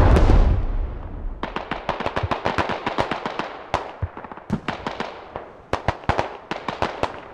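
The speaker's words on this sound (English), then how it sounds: "A counter artillery barrage now from the MEA team to slow down the push from OB" Artillery barrage in the game Squad: an initial heavy boom followed by a long run of rapid, sharp impacts and cracks, some close and loud, others more distant, with no talking over them.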